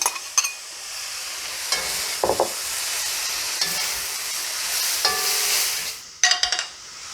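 Steady sizzling of meat and Napa cabbage stir-frying in a hot pan with intermittent scraping and clattering of a utensil as food is stirred, close up, no voices.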